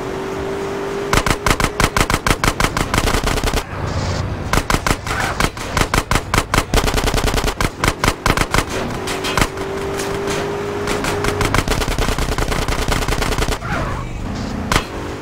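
Rapid gunfire in GTA San Andreas: loud automatic bursts of closely spaced shots, broken by brief pauses, with a second dense run of fire later on.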